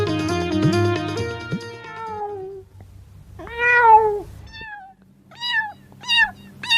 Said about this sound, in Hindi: मियाऊ मियाऊ की आवाज होती है